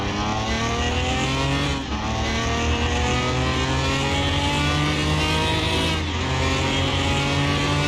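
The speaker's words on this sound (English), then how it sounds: "let's try it with the BMW Pro Kart" A BMW Pro Kart engine revs hard in Car Mechanic Simulator 2021 on a quarter-mile run, its loud, close, rising whine broken by two brief dips as gears shift.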